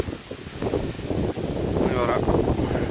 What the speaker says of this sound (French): alors désolé pour le vent.